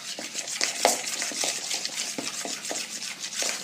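A spoon stirs a homemade slime mixture of glue and baking soda in a bowl, giving close, quiet scraping and soft clinks in a steady rhythm of short strokes, with no voices.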